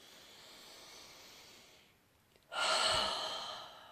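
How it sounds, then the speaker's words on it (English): Breathing drawn in softly through the nose, then a louder, breathy exhale pushed out through the mouth, close up and alone with no talking. "I'm breathing in through my nose and out through my mouth"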